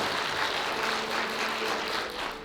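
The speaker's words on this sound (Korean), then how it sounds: "박수로 투표해 주시기 바랍니다" Wedding guests in a hall applaud together, a dense, even wash of clapping at moderate distance that fades slightly at the end, with no talking.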